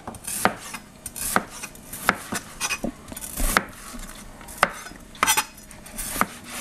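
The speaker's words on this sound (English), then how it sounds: "in slices like this. Okay, just cut them up" A knife slices sausage on a cutting board with sharp, irregular thunks and clicks, some in quick pairs, plus occasional light clatter of utensils in a kitchen, with no talking.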